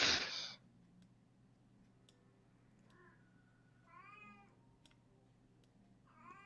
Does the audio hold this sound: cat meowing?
yes